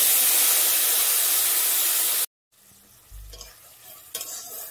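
Loud hissing sizzle of spice paste frying in hot oil for a Bengali fish curry, steady for about two seconds, then cutting out abruptly and returning as a faint, quieter sizzle with light stirring clatter.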